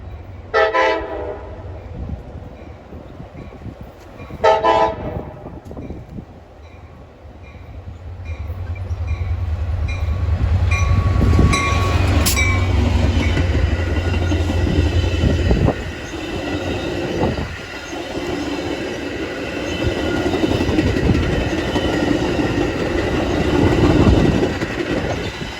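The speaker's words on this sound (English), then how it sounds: "Here we catch outbound train 109 with an MP36 in the lead." Outbound train 109, led by an MP36 locomotive, gives two short horn blasts, then rumbles past loud and close with rolling wheel noise, clatter and brief squeals.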